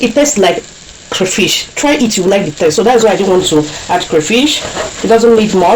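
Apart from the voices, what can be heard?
No everyday noises stand out.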